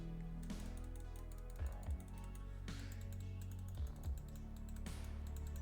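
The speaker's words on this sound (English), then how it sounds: "They're a kind of a clear blue switch. I'll do a sound check here, but it's definitely a lot more clicky" Clicky presses of a Lamzu Atlantis Mini gaming mouse with clear blue switches, a series of sharp, close clicks in pairs and singles over a steady low background hum, with no talking.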